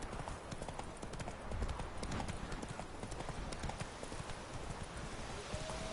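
Horse hooves clip-clopping in The Witcher 3 video game, a steady, rapid run of hoofbeats over a constant background noise, with a faint neigh near the end.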